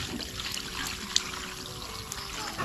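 Water trickles and pours steadily into a sprayer tank, a continuous splashing flow heard close up with a small clink partway through, no talking.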